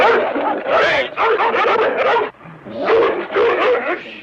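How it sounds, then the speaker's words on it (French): Several dogs bark and yip excitedly in bursts, close by and loud, with a short pause midway before the barking picks up again. "c'est pour jouer qu'ils aboient"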